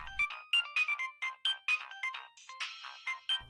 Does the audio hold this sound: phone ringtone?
yes